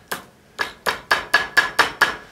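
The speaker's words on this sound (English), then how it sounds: "And then I'm just going to take a hammer" A hammer strikes a folded metal fork held in a vise, eight sharp ringing metallic blows in a steady rhythm, close and loud with no talking.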